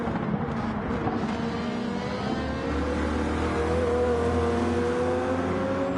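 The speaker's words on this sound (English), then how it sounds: "This Toyota Supra, I'm telling you, it's well balanced and it's an amazing car." A Toyota Supra engine drones steadily in the racing game Gran Turismo 7, a continuous revving note with rising and falling harmonics and a deeper rumble building toward the end.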